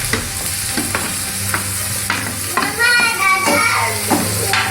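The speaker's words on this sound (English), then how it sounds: "Fry the onions till they are brown. Then add the tomatoes." Onions and tomatoes fry in a pan for a Goan beef croquette masala, giving a steady sizzle with scraping stirring strokes and a brief burst of louder crackling, with no talk.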